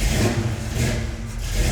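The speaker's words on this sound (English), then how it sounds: "Fire it up, see if it runs." A car engine catches and revs, a loud, close rumble that rises and dips over a short burst with no talk.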